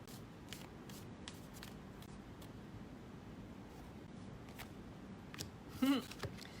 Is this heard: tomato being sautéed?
no